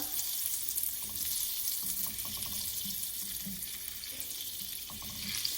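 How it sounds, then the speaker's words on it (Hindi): Butter melting and sizzling in a pan on low heat while making almond halwa, a steady soft frying hiss with faint crackles and a few small clinks, close and continuous with no talk. "चूल्हे को हम हल्का रखेंगे जब तक बटर मेल्ट नहीं होता।"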